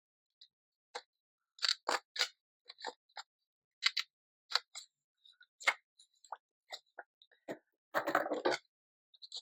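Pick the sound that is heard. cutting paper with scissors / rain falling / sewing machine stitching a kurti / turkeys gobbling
cutting paper with scissors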